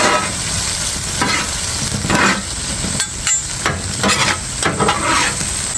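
Beef stir-fried with peppers and basil for Thai pad kra pao, a steady loud sizzle broken by repeated scraping strokes of a utensil in the pan, close up with no talking.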